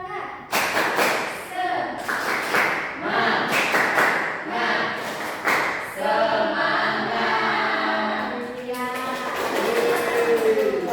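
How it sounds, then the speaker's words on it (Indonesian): A classroom of standing students performs a rhythmic group clapping chant, sharp thumping claps in patterned bursts mixed with shouted voices, loud and close, with talk and chanting throughout. "Tepuk semangat."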